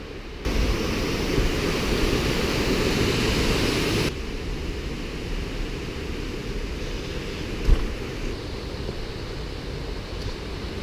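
Steady broadband rushing of a mountain waterfall, loud and continuous, with a slight drop in level partway through and a brief thump near the end.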